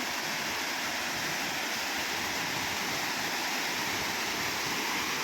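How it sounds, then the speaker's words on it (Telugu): Water rushing steadily over a reservoir tank's spillway waterfall at Jayyaram Pedda Cheruvu, a dense continuous roar with no voices. "ఇప్పుడు వాటర్ ఫాల్ అవుతుంది కాబట్టి అల్లంచి పోతుంది వాటర్"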